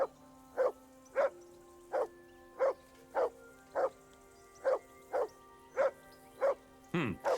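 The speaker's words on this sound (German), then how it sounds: "sag deinem Hund, er soll aufhören zu bellen" A dog barks in Kingdom Come Deliverance 2, roughly a dozen evenly spaced sharp barks in a steady rhythm, fairly close and clear, with a short different sound breaking in at the very end.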